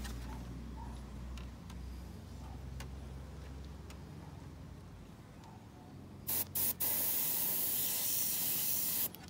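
Spray paint dusted in light passes onto an HPI 5T RC car body, a steady airy hiss under low background rumble, then a louder, brighter burst of spray near the end.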